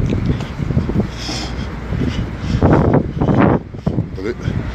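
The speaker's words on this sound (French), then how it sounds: "désolé à cause du vent, parce qu'il y a beaucoup de vent ici" Strong outdoor wind buffets the microphone, a continuous rumbling roar with gusty swells, while someone talks over it throughout.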